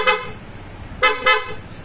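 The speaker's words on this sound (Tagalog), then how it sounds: "Tapos may busina na rin yan." A Yamaha NMAX motorcycle horn honks three times: one short toot, a pause, then two quick toots close together, loud and nearby over low idle noise.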